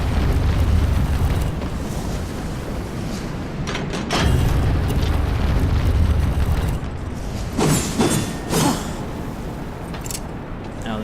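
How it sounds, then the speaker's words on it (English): Remote-detonated bombs in Darksiders Warmastered Edition, heavy rumbling booms rolling through a dense game soundscape, with a run of sharper bursts and crackles late on, loud and sustained. "Now I can set off bombs from a distance"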